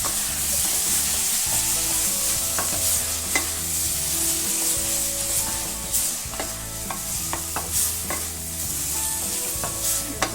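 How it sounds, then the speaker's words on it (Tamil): Tomatoes sautéing with ginger and garlic in a pan for chicken curry, a steady close sizzle with repeated scrapes and clicks of a spoon stirring throughout, no voices. "ஒரு 2 தக்காளி போட்டு அதையும் நல்லா வணக்கிப்போம்"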